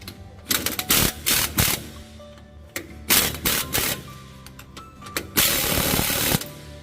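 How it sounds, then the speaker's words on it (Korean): A 22mm impact wrench hammers a bolt tight on the undercarriage of a Porter 2 EV electric truck, in loud, close rattling bursts separated by short pauses, ending in one longer sustained run. "22mm 임팩으로 22mm 그걸 조여줍니다"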